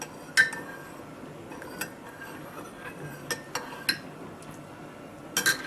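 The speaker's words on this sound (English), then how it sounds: "I'm just going to stir it up some" A spoon stirs a garlic liquid remedy in a glass, making a few light clinks and taps against the sides, spaced irregularly over quiet background, close by and with no voices.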